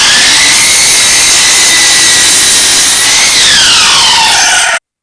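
A power saw cutting a wooden board for a saw horse table build: a loud, steady whining drone that shifts pitch partway through as the blade loads, then stops abruptly just before the end.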